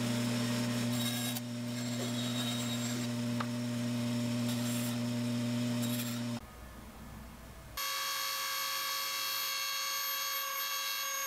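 A power tool whines steadily while cutting a part out of a wooden fishing lure bait, running close and loud for several seconds, then briefly changing pitch before resuming.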